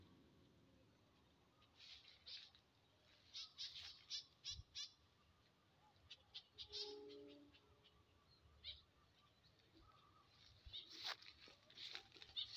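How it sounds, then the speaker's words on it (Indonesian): Faint, scattered bird chirps and calls come in short bursts over a quiet, hissy outdoor background. "Ini suara burung"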